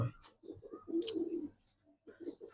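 Giribaz pigeons of silver, khaki silver and makhra khaki colouring coo in soft, low repeated bursts, close by, with a short pause before the cooing resumes.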